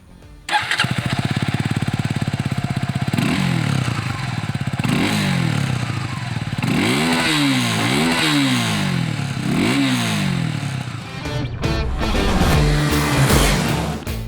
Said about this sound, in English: Let me fire up the engine for you to hear the exhaust note.